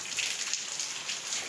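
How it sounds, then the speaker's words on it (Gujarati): Rain falls outside in a soft, steady patter with faint scattered drops, fairly quiet and even, with no talking. "તો અત્યારે વરસાદ ચાલુ છે"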